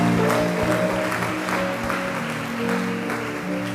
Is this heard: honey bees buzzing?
no